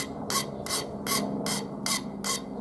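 A metal file rasps across the rough edges of small metal pieces in six even, rhythmic strokes, loud and close with no talking.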